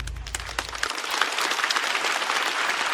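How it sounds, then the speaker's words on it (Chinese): A stand-up comedy audience breaks into loud, sustained applause, a thick wash of clapping that swells after a brief voice at the start and carries on to the end. "再次掌声送给赵越。"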